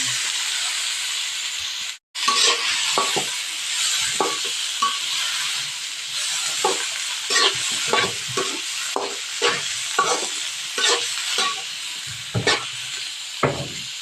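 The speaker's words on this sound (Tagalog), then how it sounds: "Lagay na po natin ang hipon." Shrimp frying in butter with a little ginger sizzles loudly and steadily in a pan, while a spoon stirs in frequent rhythmic scrapes and clacks; one brief silent gap near the start.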